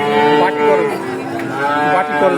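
A Holstein Friesian cow moos at a busy cattle market. The call is one long, loud, close, drawn-out lowing that rises and falls in pitch and fills the whole moment.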